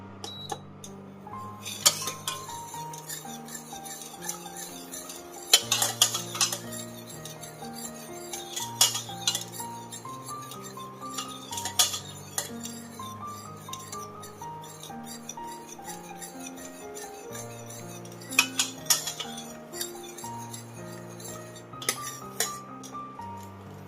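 A metal spoon mixes moong dal lemon rasam inside a pressure cooker, a steady run of repeated clinks and scrapes against the pot, close and fairly loud, with a few sharper knocks on the rim.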